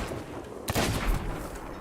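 A single gunshot from a player's firearm in the pirate video game Sea of Thieves cracks out near the middle, its echo rolling over a steady background bed of game ambience.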